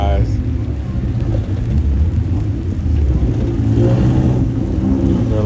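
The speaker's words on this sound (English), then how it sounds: "They're letting all the MX-5s go by." Mazda MX-5 Cup race cars go past one after another at a racetrack, their engines rumbling and revving as they pass, with crowd murmur and voices around them.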